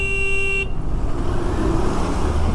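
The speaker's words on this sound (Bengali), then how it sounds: "দেখো জ্যামটা দেখো একবার" Car horns honk in a highway traffic jam, heard from a motorbike on a long road trip, with a sustained horn blast at the start, then a dense, loud rumble of engines and road noise.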